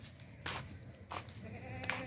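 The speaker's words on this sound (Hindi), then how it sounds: "लंबे कानों वाली झालर वाली नस्ली बकरी है, तीन बच्चे देने वाली" A long-eared, fringed-breed goat, a heavy type that bears triplets, bleats in two or three short calls amid faint background noise on a livestock market, with no talk over it.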